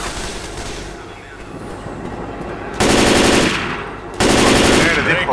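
Submachine gun fire in the zombie shooter Left 4 Dead 2, heard as two loud sustained bursts of rapid automatic shots over a busy game background.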